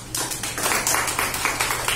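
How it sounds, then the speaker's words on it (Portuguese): A class of students applauding a first drawing at a school in Maringá, a burst of fairly close, brisk hand claps from a group that keeps up an uneven patter for a couple of seconds. "quem gostou do primeiro desenho pode aplaudir"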